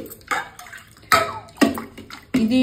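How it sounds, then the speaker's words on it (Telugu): Brass puja items being rinsed in fresh water, splashy bursts of pouring and sloshing with brief metallic knocks, close up and irregular, separated by quieter gaps. "ఫ్రెష్ వాటర్లో ఒకసారి కడిగేసుకోవాలి"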